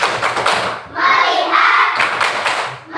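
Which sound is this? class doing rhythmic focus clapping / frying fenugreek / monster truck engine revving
class doing rhythmic focus clapping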